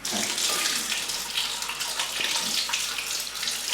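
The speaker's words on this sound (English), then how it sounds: "And now we take an unwaxed lemon, like this. Wash it properly." An unwaxed lemon is rinsed under a running kitchen tap, a steady, close rush of water splashing over fruit and into the sink throughout.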